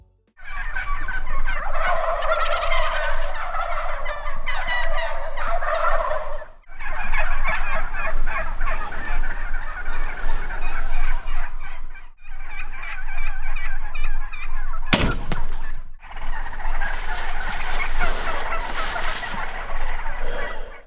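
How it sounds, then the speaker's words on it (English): Wild turkeys, a flock of about 200 roosted nearby, gobble loudly in overlapping bursts, many birds calling at once in long rolling waves with brief pauses between. "you got some 200 turkeys roosted around you"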